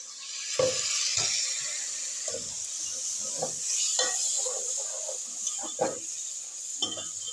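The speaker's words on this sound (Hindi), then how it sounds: "साथ में हम थोड़ा सा पानी डाल देंगे।" Water poured into a cooking pot of sizzling chilli and biryani spices for beef pulao hisses and bubbles steadily, with repeated stirring scrapes throughout.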